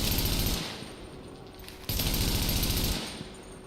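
Automatic gunfire in The Division, sounding as loud sustained bursts of rapid shots with a brief pause between two long volleys.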